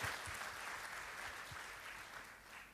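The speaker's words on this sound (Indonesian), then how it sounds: "Berikan tepuk tangan buat Tuhan." A church congregation applauding during a sermon, steady dense clapping that fills the room at an even level for the whole stretch, with no speech over it.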